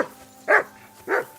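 A dog in the medieval video game Kingdom Come: Deliverance II gives two separate, fairly close barks about half a second apart, with quiet background ambience between them.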